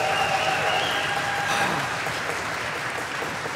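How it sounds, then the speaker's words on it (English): A conference audience at PyCon UK 2023 gives a loud, sustained round of applause, dense clapping with whoops and foot stamping mixed in, holding steady throughout. "massive round of applause from the audience, accompanied by foot stamping and whooping"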